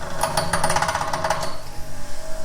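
A bench grinder wheel in need of dressing, chattering and bouncing against a club hammer being polished in a home workshop, giving a rapid rough rattle for about a second over a steady motor whine.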